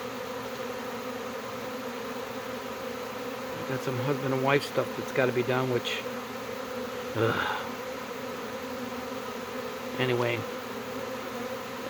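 A honey bee swarm buzzing, a large ball of bees hanging at a hive site, making a constant hum that stays steady under someone talking close by.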